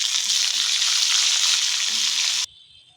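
Cinnamon, cloves, cashews and green chillies fry in a pan with a loud, dense, close sizzle that cuts off abruptly near the end, leaving a faint quieter hiss.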